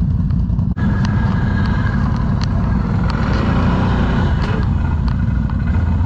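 A rally car roars past on a gravel stage, a loud, sustained engine drone close to the listener with a brief dip partway through, heard alone without talk.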